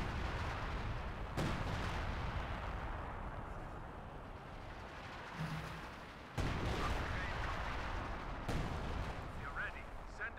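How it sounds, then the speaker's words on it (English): Howitzer artillery barrage with airburst shells in Company of Heroes 2, a dense rumbling battle bed broken by several sharp, loud blasts at irregular intervals, with voices faintly mixed in. "We also do see the concentrated fire barrage. Three shots from both the MG, from both howitzers"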